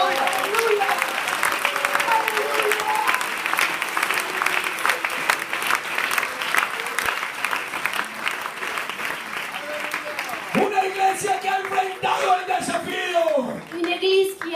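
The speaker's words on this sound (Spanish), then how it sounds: "Un aplauso para Jesucristo, Señor." Church congregation applauding during a Spanish-language sermon, continuous crowd clapping with sung or spoken voices layered on top, and a voice rising clearly over the clapping near the end.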